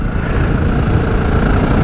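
Motorcycle engine on a summer road trip along narrow winding French country roads, a loud close steady rumble with a dense low throb and constant wind-blown drone, no voices.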